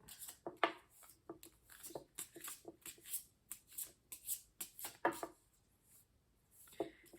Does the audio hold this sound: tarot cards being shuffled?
yes